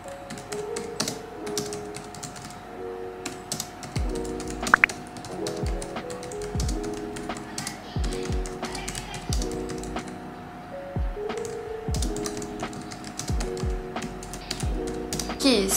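Typing on a Bluetooth 3.0 keyboard paired with a 2021 11-inch iPad Pro: a steady run of close, crisp key clicks and taps, with a faint background tone and voices in the room.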